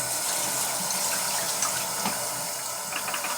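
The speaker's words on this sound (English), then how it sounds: "So I can now pour this developer out." Film developer pours out of a developing tank into a sink, a steady, continuous rush of liquid heard close up with a few small splashes near the end.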